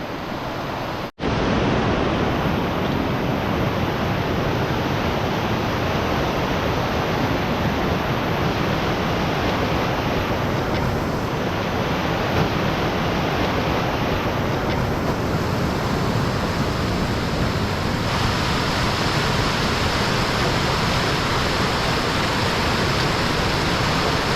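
A mountain river rushes loudly and steadily in the Mount Baker Wilderness of Washington, a dense continuous roar heard up close with no talking over it.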